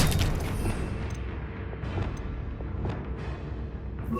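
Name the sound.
Confringo spell explosion in video game Hogwarts Legacy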